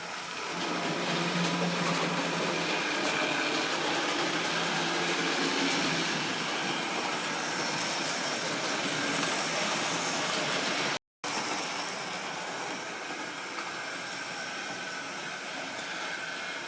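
A secondhand Hornby model locomotive with a 3-pole motor runs steadily, giving a loud, continuous whirring hum that cuts out for a split second at one point and then resumes unchanged.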